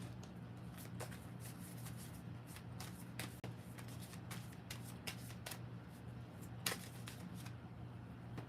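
Tarot cards are shuffled in soft, repeated riffling bursts, close but very quiet over a low steady hum, with occasional brief taps.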